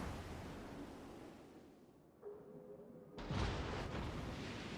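Naval artillery fire in World of Warships, with a broad rumbling roar of guns and shells, a brief whistling tone, then a loud burst of firing near the end over constant sea-like background noise.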